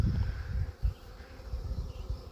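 Honeybees from a swarm buzz around a new hive on a homestead, a close, low, fluctuating hum with brief swells as insects pass near.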